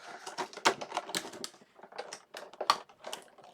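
An X-Acto knife slicing open toy figure packaging: a rapid run of close, crisp scratchy cuts and crackles of plastic and cardboard, irregular and busy, with no speech.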